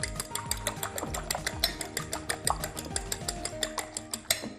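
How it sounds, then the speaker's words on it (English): A whisk beats three eggs in a bowl, with quick rhythmic clicking strokes against the bowl repeated steadily and fairly close. "Give them a nice whisk."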